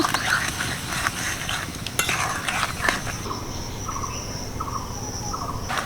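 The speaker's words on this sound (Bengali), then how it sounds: "ভালো করে মিশিয়ে নেব" Hog plum pickle is stirred through sugar and jaggery, giving soft scraping, sloshing stirs with a few sharper clinks against the pot, while crickets chirp steadily in the background throughout.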